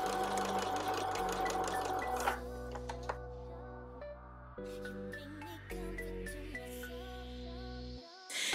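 Sewing machine stitching a simple hem on folded-over t-shirt fabric, a fast steady mechanical whir that shifts pitch in stages as the speed changes, close and alone before stopping at the end.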